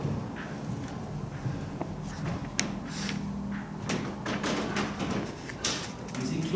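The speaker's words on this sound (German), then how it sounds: "Wie sie klopft." A few sharp, irregular knocks on a door inside a rural farmhouse cut through steady room noise and muffled background sounds.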